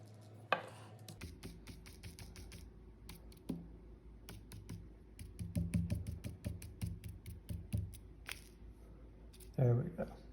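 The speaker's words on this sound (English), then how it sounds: "Let's take a look what happens when I sprinkle the iron filings." Iron filings sprinkled over a pair of bar magnets make a fine, patchy patter of light ticks and rustles, with brief louder scatters in the middle and near the end, all fairly close.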